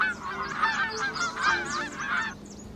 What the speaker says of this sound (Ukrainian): Тут гуси лебеді побачили її, загоготали, налітають, крилами б'ють.